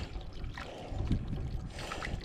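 Liquid pouring into the diesel exhaust fluid tank of a Ford F-250 with a 6.7 diesel engine, a steady close trickle and gurgle running throughout with a few louder splashy surges, no talk.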